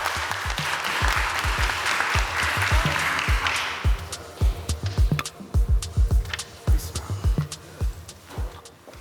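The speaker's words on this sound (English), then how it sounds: "another round of applause for my man, Darren Vaughn and his son" An audience at a spring showcase claps warmly, the applause dense at first and then thinning into scattered individual claps that trail off.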